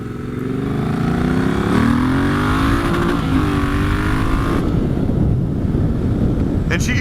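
A 2018 Triumph Bonneville T120 motorcycle engine with aftermarket exhausts revs and accelerates with a rising, steady roar, accompanied by wind rushing across the microphone.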